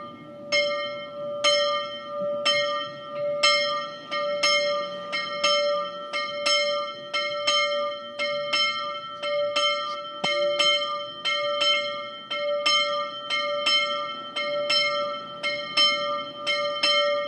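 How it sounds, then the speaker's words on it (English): A church bell rings steadily and loudly, its strikes repeating at an even pace with a long, resonant ring that overlaps from one stroke to the next. "today, we're hearing the ringing of that bell"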